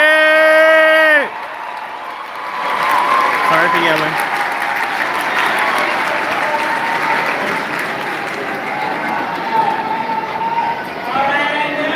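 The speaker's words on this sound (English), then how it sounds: "Let's give our graduates a round of applause." A crowd at a graduation ceremony bursts into sustained applause with cheering for the graduates, after a loud voice speaks at the start; a voice returns briefly at the end.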